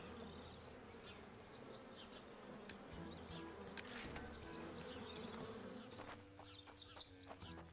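Bees in the video game Chop Chop Inc give off a soft, continuous buzzing drone with faint clicks and small effects over it, quiet and without speech.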